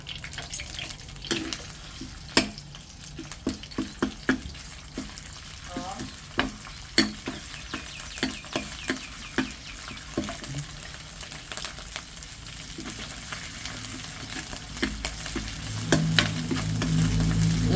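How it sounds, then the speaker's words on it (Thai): Two spoonfuls of Thai red curry paste sizzle in a pan while a utensil scrapes and stirs it, sharp clatters recurring every second or so over a constant soft hiss, close and fairly quiet. "ก็ใส่พริกแกงไปสองช้อนโต๊ะค่ะ"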